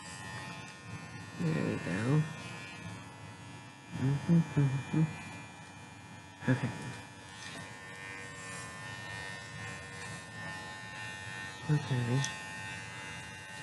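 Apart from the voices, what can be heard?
electric clippers shaving a Shih Tzu dog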